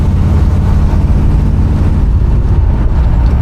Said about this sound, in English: We'll give it a little bit of gas